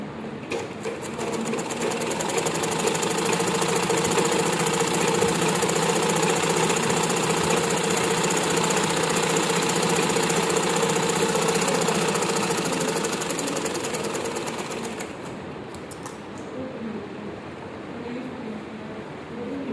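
A sewing machine stitches the main fabric of an A-line long frock, running in a fast, steady, close mechanical whir for about fifteen seconds before stopping, followed by quieter background sound.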